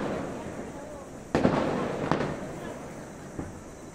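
Large firecrackers go off during Diwali celebrations in Himachal, two sharp nearby bangs and a fainter third pop ringing out over a steady background of distant crackling and festival noise.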